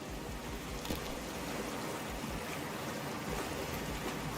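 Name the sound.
water while diving in video game Cyberpunk 2077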